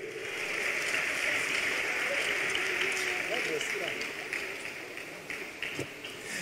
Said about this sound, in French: allez, on les applaudit très très fort